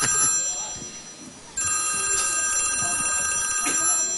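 A telephone rings with a bright, sustained electronic tone that steps up louder partway through and keeps going, heard indoors over faint background noise.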